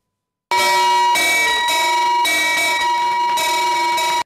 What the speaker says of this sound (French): Félix Anoblé vient ainsi de sonner la cloche pour l'égalité des sexes